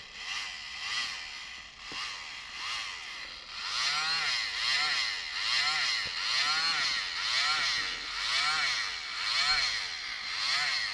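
A mini blower used to dry paint on tile whirs close by and swells and fades in repeated waves as it is moved around, getting louder after a softer start.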